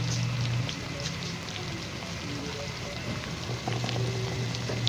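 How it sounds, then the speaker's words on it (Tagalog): Potato and carrot pieces fry in hot oil, giving a continuous close crackling sizzle at moderate loudness with small pops throughout and no talk. "Ito yung piniprito natin patatas carrots."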